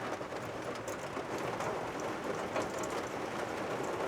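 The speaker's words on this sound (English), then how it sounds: "it's raining again, but we honestly don't care" Steady rain falls outdoors during repair work on a 2019 fifth-generation RAM with a 5.7 Hemi, a continuous even hiss of drops on surfaces with no talk.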